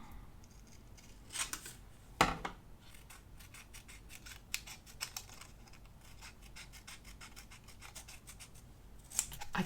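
Scissors snip around a paper planner page, a string of soft crisp cuts and scratchy paper rustles at close range, irregular with a few louder snips, in an otherwise quiet room.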